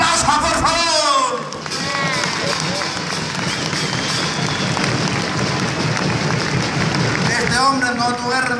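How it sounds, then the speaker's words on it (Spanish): Sustained crowd applause and cheering fills a political rally in Bolivia, loud and continuous for several seconds, with a voice shouting over it at the start and again near the end. "¡Denme un aplauso, por favor!"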